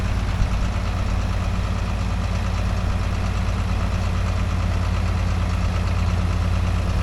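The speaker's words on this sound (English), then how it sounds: "I'm so proud of that old tractor." An old tractor's engine idles nearby with a steady, loud low rumble and rhythmic knocking chug, unchanging throughout with no talking.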